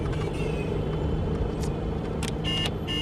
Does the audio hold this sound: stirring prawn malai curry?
no